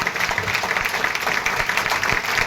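An audience at a large Delhi motivational speaking event applauds, a dense, steady wash of clapping from many hands filling the hall with no voices over it.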